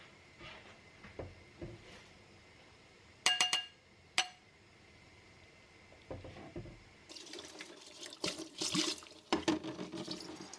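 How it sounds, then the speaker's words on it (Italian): Glass bottles are washed with water and baking soda, giving running water from a tap, sharp glass clinks and knocks, then a louder spell of splashing and sloshing in the sink. "Lavo le bottiglie con un po' di acqua e bicarbonato"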